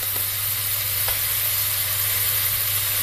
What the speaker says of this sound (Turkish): Öncelikle kızgın tenceremin içerisine iri dana parça etlerimi atıyorum.